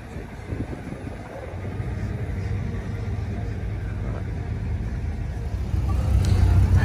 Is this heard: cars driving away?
yes